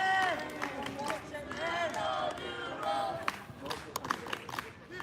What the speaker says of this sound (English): I love the fan base here cheering them on.